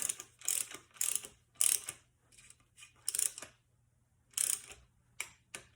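A torque wrench clicks and ratchets on a nut of a 904 race transmission during an overhaul, producing quiet bursts of rapid mechanical ticking in uneven groups, close by with pauses of near silence.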